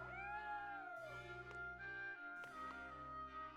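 Cat meowing in the video game Triangle Strategy, a drawn-out sliding meow followed by shorter calls over a steady sustained musical backdrop, clear and fairly prominent.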